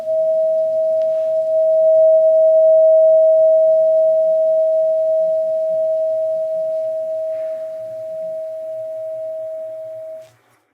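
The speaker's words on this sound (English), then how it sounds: "the soothing sound of 639 hertz in a tuning fork" A 639 hertz tuning fork rings as one steady, pure tone that holds loud and even for about ten seconds before stopping abruptly, with faint low rumble beneath it.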